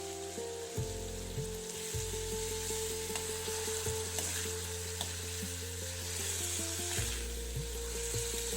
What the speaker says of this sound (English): Stir the sabji a little and close the lid again.